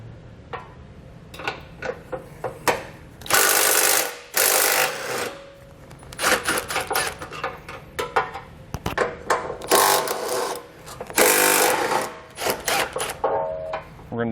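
A 14mm socket works loose the bolts and nut of a bumper beam while a hidden trailer hitch receiver is fitted to a 2020 Subaru, giving close bursts of metallic ratcheting and scraping with short pauses between, no talk.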